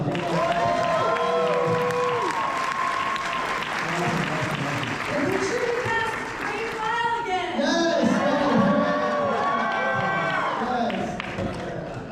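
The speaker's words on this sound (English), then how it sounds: "Give yourself a round of applause." A Fan Expo Dallas convention panel audience claps and cheers in a loud, sustained burst, with excited voices and shouts layered over the applause throughout.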